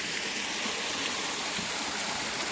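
Warm water flows steadily down a stream near a bath area, a constant broadband rushing and gurgling heard close up without pause, with no talk.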